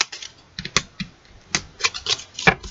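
Oracle cards being shuffled by hand, giving a quick series of crisp riffling and rubbing snaps in irregular bursts, close and fairly quiet.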